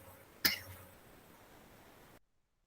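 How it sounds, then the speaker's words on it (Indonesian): A single sharp cough from one person, close and sudden, followed by a faint trailing breath before the sound cuts to silence. "soalnya saya lagi batuk"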